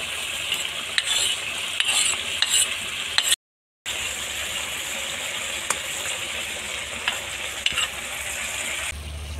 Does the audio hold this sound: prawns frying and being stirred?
yes